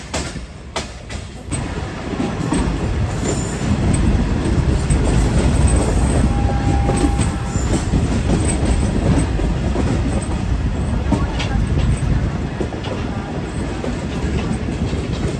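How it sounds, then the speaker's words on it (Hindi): The Bahauddin Zakriya Express passenger train running on rails at night, a loud continuous rumble with rhythmic clickety-clack of wheels over joints and occasional brief metallic squeals, heard from on board. "वायरलेस गेट को क्रॉस कर दिया ट्रेन ने।"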